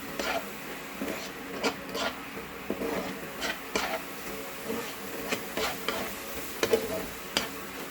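Coriander, cumin, turmeric and chilli sautéing in a pan, with soft scraping and stirring clicks recurring at a steady pace over a faint sizzle, close and fairly quiet.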